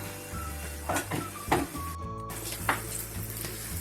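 Green chillies coated in besan batter deep fry in hot oil for mirch pakora, a steady close sizzle running throughout with a few soft clinks and knocks.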